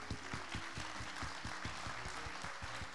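An audience at a fashion show event claps for an entrepreneur, a crowd's applause with a strong, evenly pulsing beat of rhythmic clapping held steady throughout, heard from a distance and fairly faint.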